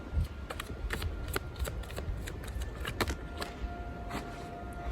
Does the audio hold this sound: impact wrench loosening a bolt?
no